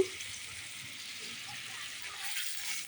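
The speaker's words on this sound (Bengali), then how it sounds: "যতটুকু বাকি আছে দিই সব মশলা দিয়ে এখন একসাথে কষে দিই" Spices for paneer posto frying in a pan: a faint, steady hissing sizzle that runs throughout, soft and close, with no distinct voices.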